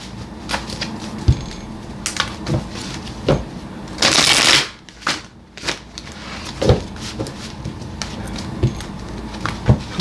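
Tarot cards are shuffled in quick, irregular bursts of soft riffling and tapping, with one louder, longer riffle in the middle, and no talking over it.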